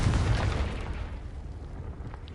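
A Confringo fire-blast spell in a video game, a single loud booming explosion at the start that rolls off into a long, fading rumble.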